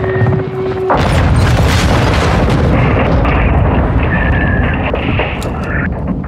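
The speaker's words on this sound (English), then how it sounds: "Second missile!" A missile explosion in the Call of Duty: Modern Warfare 2 video game hits with a heavy, loud boom, then a long rumbling roar of blast and battle noise continues to the end.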